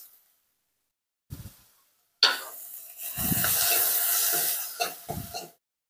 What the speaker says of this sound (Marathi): तर आता आपला कांदा जो आहे तो परतत आलेला आहे.